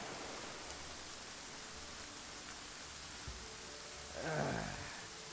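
Steady rain falls on a beach in a video game, a constant broadband hiss with low background hum. A brief whooshing swell rises near the end.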